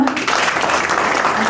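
A church congregation applauding during a worship service at Temple Gloire in Bingerville, a steady dense clatter of clapping under a continuous murmur of voices.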